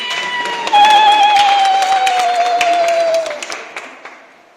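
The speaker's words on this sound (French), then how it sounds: "Et on l'applaudit." A congregation claps at a baptism ceremony in Sens. The applause swells quickly, holds for a few seconds under a sustained tone, then fades away.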